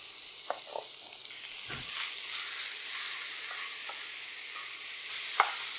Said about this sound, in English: we're just gonna toss this in the frying pan